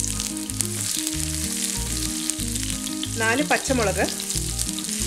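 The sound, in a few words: garlic, shallots and green chilies sautéing in hot oil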